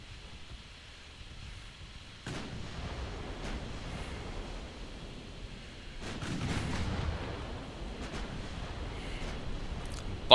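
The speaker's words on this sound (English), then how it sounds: "Hit a torpedo boat with a main gun." A warship's main gun firing in the naval strategy game Ultimate Admiral Dreadnoughts, with several distant booming reports over a steady rolling sea-and-wind bed.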